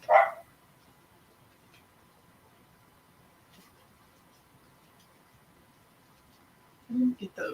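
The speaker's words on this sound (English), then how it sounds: "Dogs are barking. That means Dane's home." Dogs bark in a home: one sharp bark at the start, then a long quiet stretch with faint background noise, and a couple more barks near the end.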